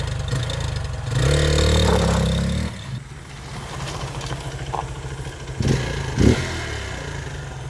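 A Hero Xpulse motorcycle fitted with a modified exhaust revs hard for a couple of seconds and then settles into a rough, lumpy idle, with a couple of shorter throttle blips near the end, heard up close.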